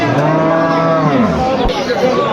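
A dairy cow lowing loudly and close at the Aftabganj cattle market in Dinajpur, one long drawn-out moo with a faint crowd murmur behind.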